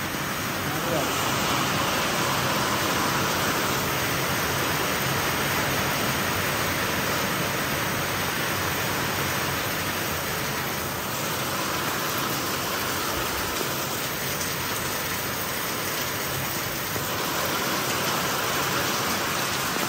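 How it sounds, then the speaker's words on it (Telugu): Heavy rain pours down steadily in a village, a dense, loud, unbroken hiss that runs through the whole stretch without any letup. "వర్షం మీద ఇట్లా కొడుతుంది"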